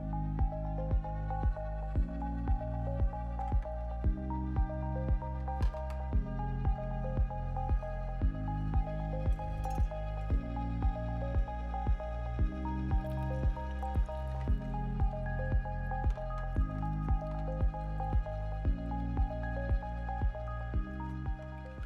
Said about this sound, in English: Watermelon should juice pretty easily in most any juicer because it's got such a high liquid content.